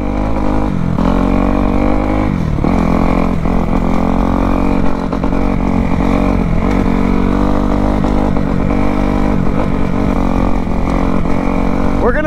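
A Kawasaki KX250F dirt bike engine drones loud and steady throughout, its pitch rising and falling with throttle as it rides and takes a jump, with some voice over the engine.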